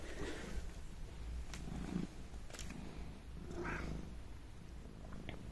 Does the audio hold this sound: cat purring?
yes